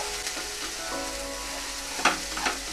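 Malvani masala and turmeric sizzle in hot oil, with a continuous close frying hiss. A couple of brief scraping stirs stand out near the end.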